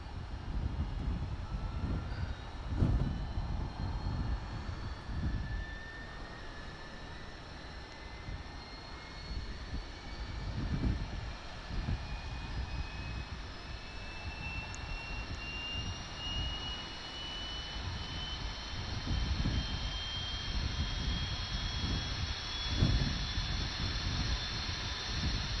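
MD-80 auxiliary power unit spooling up in a flight simulator, a steady broadband jet-like roar with rising whining tones and occasional low thumps, continuous and fairly loud throughout.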